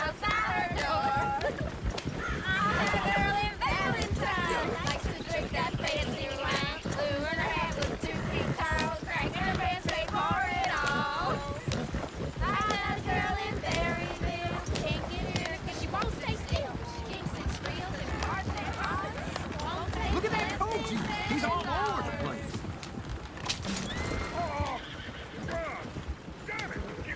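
Horses in the Red Dead Redemption 2 video game whinny and neigh with clip-clopping hooves, set under a dense, continuous mix of game sound, music and character voices throughout.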